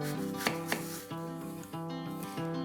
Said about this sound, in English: And then I find my little indent around the core, and I slice the second side.